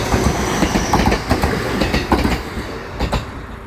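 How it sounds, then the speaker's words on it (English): A train rolls past beside a road between islands near a shipbuilding yard, its steady wheel rumble and rhythmic clickety-clack continuing loud and close throughout. "one side of the road you get the train coming"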